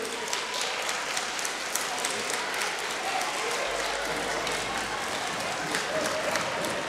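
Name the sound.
audience applause for a student from Korea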